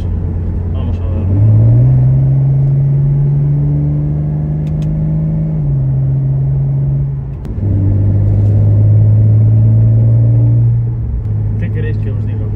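A Porsche 911 Carrera 997.2 cabriolet with PDK gearbox drives with a loud, steady engine drone that rises in pitch, drops briefly at a gear change midway, then settles into a lower steady hum.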